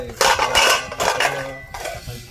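Plates and dishes clatter and clink as they are handled in a sequence of clustered bursts, fairly close and loud, with no talking.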